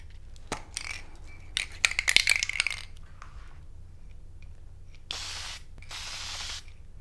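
An aerosol can of Testors Dull Coat rattles and clicks a few times, then a steady hiss of spray lacquer runs in two close bursts over a model figure.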